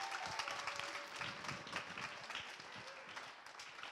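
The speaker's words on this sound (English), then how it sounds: "another round of applause for our wonderful panelists" A crowd applauds panelists at an AAPI #ImReady panel event, dense continuous clapping filling the room at a steady level with some cheering mixed in.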